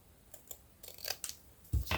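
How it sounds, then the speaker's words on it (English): Soft, close snips of scissors cutting paper for a papercraft project, a few light irregular cuts ending in a louder crunching snip, no voices. "I'm just going to cut it like this"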